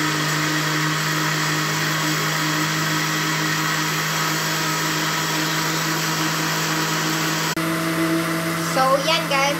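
Electric mixer whirring steadily through fruit cake batter with yogurt and vanilla, a loud continuous motor drone close by that shifts pitch near the end as a voice starts talking over it.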